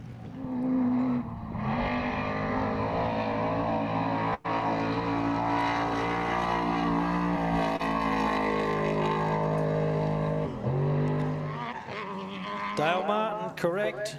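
A race car lapping an enduro track during short-course racing at the Pines Enduro. A loud, continuous engine drone holds steady for most of the stretch and dips briefly near the end before picking up again.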